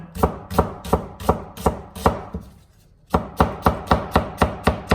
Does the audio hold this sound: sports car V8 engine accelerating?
no